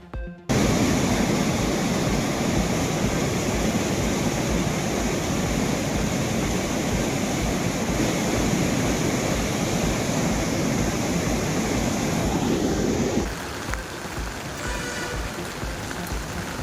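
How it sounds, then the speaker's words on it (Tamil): Water roars through the sluice gates of the Kumari dam in Nagercoil, a dense, steady, loud rushing wash that holds unbroken and then eases to a slightly lower level near the end. "நாகர்கோவிலில் உள்ள குமரி அணை மதகுகளில் ஆர்ப்பரித்து கொட்டும் தண்ணீர்"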